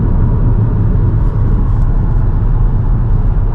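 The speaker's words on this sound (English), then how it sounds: "The car seems to be driving pretty good." A car drives along an Alaskan road treated with calcium chloride, with a loud, steady low road rumble and engine drone heard from inside the cabin.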